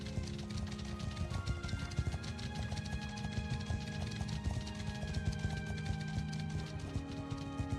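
A knight's horse in black barding in the game Warhammer Old Realms gives a steady, unbroken patter of hoofbeats amid busy battle noise.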